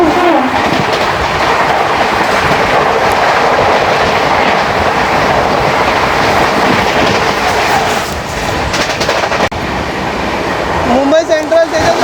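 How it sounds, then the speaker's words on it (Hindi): CR Rajdhani Express rushes past in India, a loud continuous roar of rolling coaches with rhythmic clickety-clack of wheels over rail joints, ending with a faint squeal as the last cars go by; speech may sit beneath the din. "तो चलिए सामने से आ रही है CR राजधानी एक्सप्रेस"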